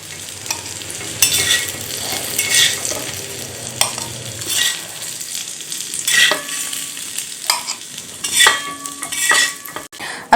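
Eggs frying on a tawa give a steady, close sizzle, with occasional scrapes and clinks of a spatula against the hot pan; no one speaks.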